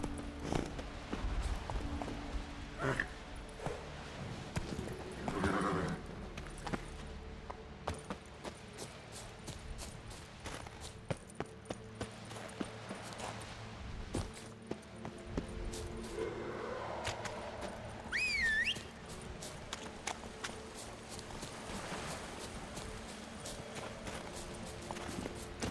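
Hooves of a horse galloping in The Witcher 3 on Skellige, a rapid repeated clip-clop that goes on throughout alongside in-game ambience, with a brief whinny-like sweep partway through.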